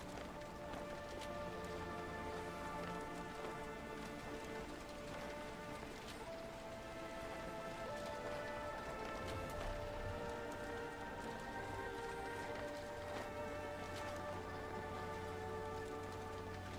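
Steady rain falls across a marsh in the video game Horizon Forbidden West, a continuous dense patter layered under soft tonal game ambience, with no voices.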